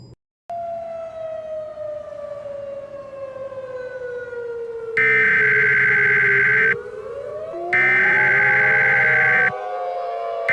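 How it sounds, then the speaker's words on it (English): Emergency alert system sirens on a broadcast rise and fall in long sweeping wails, joined by two loud blocks of steady alert tone, moderately loud and alone without talk. "The sirens aren't too loud."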